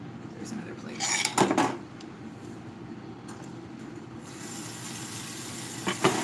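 Dishes, plates and cutlery being washed by hand at a sink, with a few clattering clinks and knocks near the start and again briefly at the end over a steady background hum.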